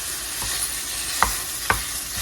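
Rice with butter is broken up and stirred in a pan over a steady sizzle, with two sharp scrapes of a utensil against the pan and no talking.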